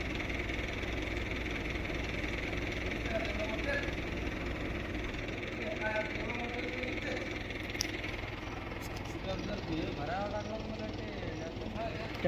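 A tractor engine runs on a farm where a well is being deepened, making a steady low drone that holds throughout at moderate distance, with faint background voices.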